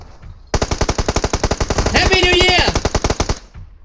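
Automatic gunfire in the PUBG video game rattles out as one rapid, loud, evenly spaced burst lasting about three seconds, with a brief voice sounding partway through.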